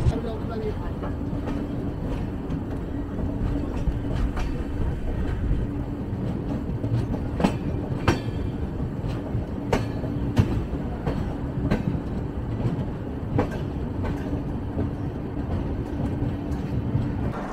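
The 12331 Himgiri Express runs on rails near Mokama in Bihar, heard from inside the carriage as a steady rumble broken by rhythmic wheel clacks over rail joints, with faint voices in the background.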